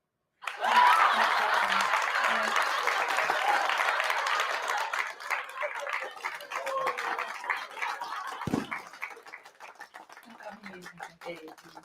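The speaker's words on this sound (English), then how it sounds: "Give him some cheers over there and some clapping." A studio audience bursts into loud, dense clapping and cheering that holds strong, then thins into scattered claps as it fades.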